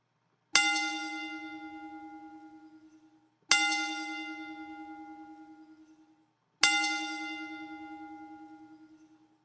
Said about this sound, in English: I want to give him a 3-bell count. I'm going to start the bell right now